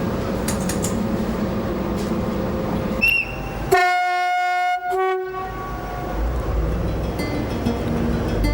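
A train running on a Portuguese railway, rumbling steadily with a loud sustained horn blast in the middle, followed by continued rolling noise close by.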